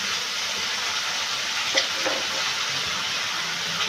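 Spices and fried potatoes sauté in a pan for homemade egg biryani. A steady, loud sizzle runs throughout, broken by a couple of brief stirring knocks.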